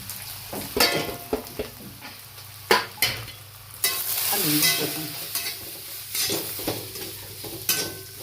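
Masala roasting in a hot pan for katachi amti, a crackling sizzle broken by repeated clinks and scrapes of a spoon stirring against metal, close and fairly loud with no voices.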